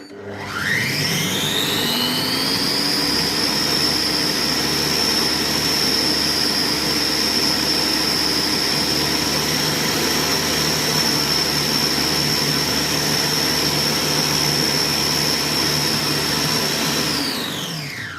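A kitchen mixer blending homemade mustard runs at its maximum speed, twelve, making a loud, steady high-pitched motor whine and roar that spins up at the start and winds down at the end, with no talking.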